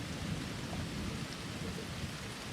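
Steady rain falls with a low rumble of thunder through a dark stormy night, a constant dense wash of downpour with no voices, heard alone and even throughout.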